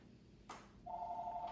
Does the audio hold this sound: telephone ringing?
yes